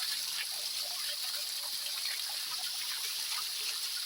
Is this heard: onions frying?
no